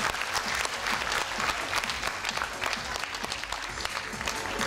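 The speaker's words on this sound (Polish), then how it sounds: "ogromne brawa dla małych aktorów, dla pani Uli" Sustained applause from an audience at a modern dance championship, given for young child actors; dense, steady clapping throughout with a faint crowd murmur beneath, no voices standing out.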